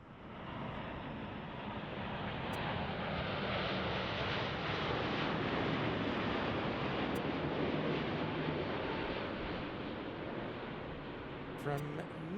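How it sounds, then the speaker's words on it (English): A regular-sized airliner at Los Angeles International Airport roars steadily with a broad, rushing engine noise that swells and slowly fades, heard from outdoors over wind, with a few faint clicks near the end. "Probably because there's a, a regular sized plane next to it, Katie."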